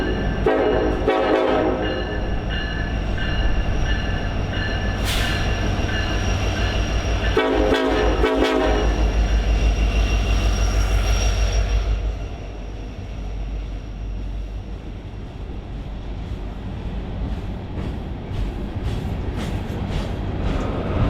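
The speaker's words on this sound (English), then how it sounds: "U-745 arrives in the Iron Range with empty hoppers for loading at the Tilden mine." Freight train hauling empty ore hoppers arrives on the Iron Range in Michigan's Upper Peninsula, with loud continuous locomotive rumble and repeated horn blasts that fade to a steady rolling drone.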